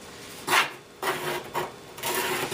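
Close, rough scraping strokes of a plastic scraper rasp wax off a snowboard edge, four or five passes separated by brief pauses, with no voices.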